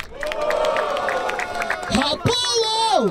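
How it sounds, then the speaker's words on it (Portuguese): A crowd at a freestyle rap battle in Barueri, São Paulo, yelling and cheering loudly, with shouting voices and rising whoops layered over a dense roar close by. "Barulho para as rimas do Vinici!"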